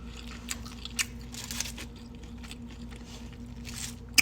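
Crunchy food chewed close to the mic during an on-camera eating session, with irregular soft bites and crunches over about four seconds, one sharp louder crunch near the end, no talking.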